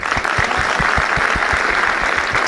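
An audience applauds Guruji, a steady dense wash of many hands clapping at full strength, with no voices over it.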